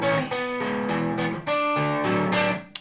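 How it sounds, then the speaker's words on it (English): A chorus arpeggio passage played on guitar with an effects unit, close and clear, with a rhythmic repeating pattern of picked notes and no talking. "So that's the arpeggiation passage that you hear in the chorus."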